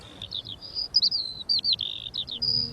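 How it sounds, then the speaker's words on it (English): A black-headed gull calls in a British garden, a string of high, thin, squeaky notes in quick uneven bursts over a quiet background, fairly near. "Black-headed gull."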